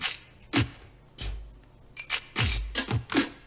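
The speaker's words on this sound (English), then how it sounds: "I also got a step divider on some drums with percussion," Sparse electronic drum-machine percussion hits, triggered through a step divider, land irregularly, with short clicky and thumpy strikes separated by brief gaps, clean and up close.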